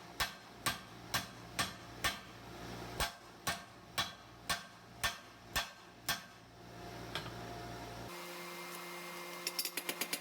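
Hand-forged bolt tongs being hammered on an anvil: a steady run of about a dozen sharp ringing blows at even intervals, then a pause, a shift in background and a quick burst of lighter taps at the end.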